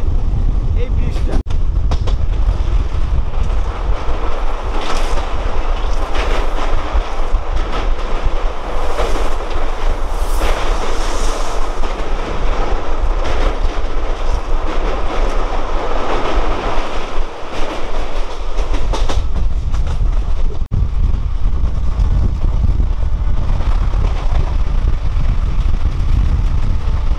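Passenger train rolling across an iron bridge over the Bhagirathi river in Murshidabad, a continuous loud rumble with rattling carriages and wind buffeting the microphone, steady throughout with brief metallic clatter.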